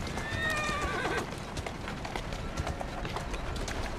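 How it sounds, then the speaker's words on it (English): In Assassin's Creed Syndicate, a horse gives a clear, high, falling whinny at the start. Light rhythmic clip-clopping hooves follow and continue to the end, with no talking. "Who's a good horse? You are."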